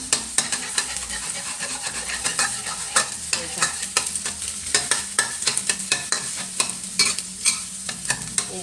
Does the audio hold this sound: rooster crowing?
no